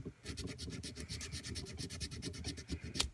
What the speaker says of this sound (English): you can take your file here that I got at Micromark, and you sand down where it glues together